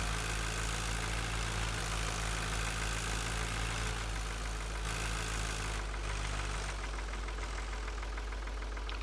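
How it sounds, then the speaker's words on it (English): Tractor engine in the video game Farming Simulator 2013, a steady low droning idle with a knocking pulse, continuous and fairly loud throughout, alone without talk. "can't you see this tractor coming through?"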